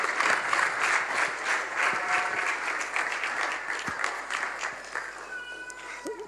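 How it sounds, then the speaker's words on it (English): A conference audience gives a standing ovation, with dense, sustained clapping from a large crowd that fills the room and slowly thins toward the end. "Please let's put our hands together."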